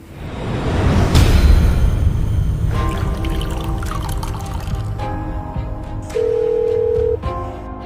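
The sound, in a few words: telephone busy tone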